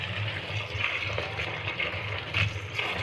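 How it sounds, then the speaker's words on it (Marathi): Coriander leaves being washed in clean water, a steady close wash of running and splashing water with no talk. "अशी स्वच्छ पाण्यामध्ये धुवून घ्यायची"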